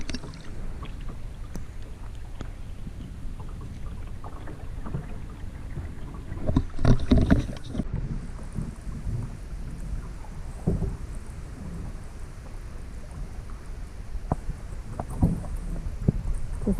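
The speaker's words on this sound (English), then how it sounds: "You can hear the rapids." Steady rushing water of river rapids near Booth Lake in the distance, heard under wind buffeting the microphone, with occasional paddle splashes and knocks close by.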